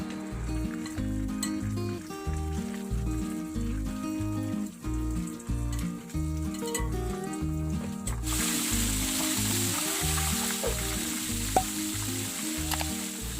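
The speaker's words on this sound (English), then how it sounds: "Now let's start the deep frying." Chicken deep frying in plenty of hot oil gives a steady, continuous sizzle that carries on throughout, close and moderately loud. It becomes brighter and more hissing partway through, with a faint rhythmic background pulse underneath.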